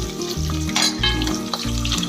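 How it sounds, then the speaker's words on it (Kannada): Chopped onions for a chicken biryani fry steadily in hot oil, a dense, continuous sizzle with occasional stirring scrapes, close and fairly loud throughout with no talking. "ಈರುಳ್ಳಿ ಒಂದು ಚೆನ್ನಾಗಿ ಫ್ರೈ ಆಗಬೇಕು ಸ್ನೇಹಿತರೆ."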